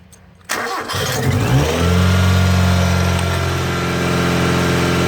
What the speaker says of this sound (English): That's what happens. The engine starts up.